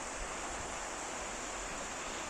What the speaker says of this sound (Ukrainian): Ось цей водоспад.